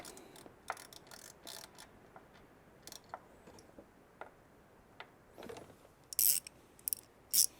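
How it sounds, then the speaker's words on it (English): A hand wrench tightening spark plugs on a 2019 Ram 1500 with the 5.7 HEMI, giving quiet irregular ratcheting clicks and small metallic ticks, with a few sharper clacks near the end. "tighten those down with an actual wrench"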